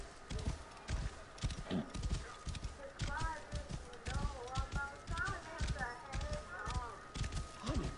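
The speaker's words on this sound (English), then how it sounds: "Look at my horse. My horse is amazing." Horse hooves clip-clop steadily in Assassin's Creed gameplay, a brisk repeated rhythm close up, with brief whinny-like tonal calls and someone talking over the hoofbeats throughout.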